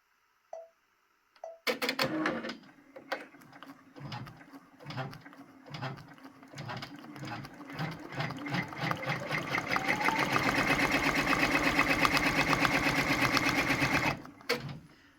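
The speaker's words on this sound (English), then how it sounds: "Now I will stitch it." A Brother PR1055X embroidery machine stitches a monogram applique, starting with spaced mechanical clicks that speed into a fast, even, rattling hum, then stopping abruptly.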